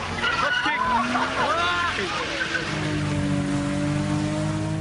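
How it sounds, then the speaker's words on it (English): A car doing a burnout outside a hotel in Melbourne's Docklands, with loud squealing, skidding tires and a revving engine whose pitch rises and sweeps, then settles into a sustained whine as the tires keep spinning. "Watch as this car does a burnout just outside a CBD hotel, packed with international visitors."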